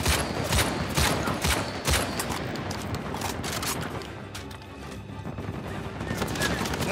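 Sustained gunfire in the Uncharted 4 video game, a dense fusillade of overlapping shots and impacts throughout, loud and continuous, with a player's voice talking over the battle.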